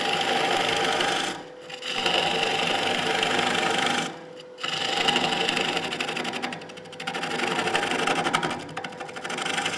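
A wood lathe rough-turns a live edge bowl. A steady, loud, gritty cutting drone from the tool against spinning wood is broken by brief pauses and uneven rasping stretches where the cut bounces, and no one speaks.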